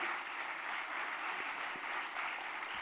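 Audience applause at an honouring ceremony held by a charitable service committee, a steady dense wash of clapping that holds evenly for the whole stretch at moderate distance, with no voices over it.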